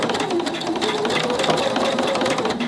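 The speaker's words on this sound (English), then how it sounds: "I'm gonna make this elastic a loop, so I'm gonna just sew this together real quick" A sewing machine runs steadily at close range, stitching the ends of an elastic strip together into a loop for a summer blouse, with a continuous even whir and no talking.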